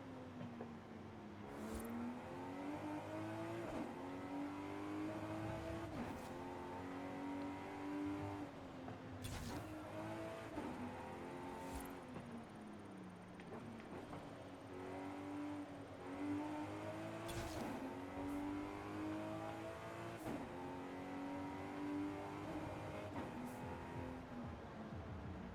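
A BMW 850CSi with a body kit driving in Forza Horizon 5, its engine droning steadily and rising and falling in pitch through gear changes, continuous and moderately loud throughout.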